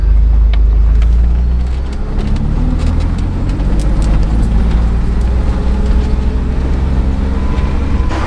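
Ford Bronco crawling along an off-road trail in four-wheel low, a steady loud engine drone with deep rumble and continuous road noise throughout, close and unbroken.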